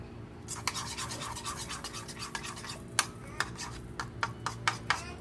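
A sauce for crab cakes being stirred in a bowl, quiet scraping and clinking strokes, irregular at first, then a run of sharper, evenly spaced taps toward the end, close and fairly faint with no talking.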